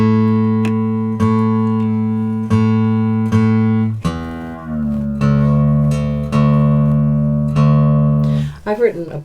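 Guitar strings in DADGAD tuning sounded one at a time as repeated ringing plucks, loud and close, with low strings first and then higher strings, ending in a brief scrape.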